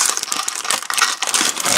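Plastic bags crinkling and rustling as model kit parts for a 1/35 HG Bandai kit are pulled out, a dense, continuous crackle close to the microphone with no voice.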